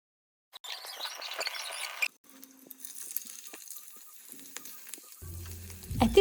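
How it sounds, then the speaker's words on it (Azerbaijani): Goose meat fries in a pot with a bright, steady sizzle, broken by a short pause and a few metal scrapes and knocks of stirring, ending in a louder clattering burst. "Əti qazanda biraz qızartdım."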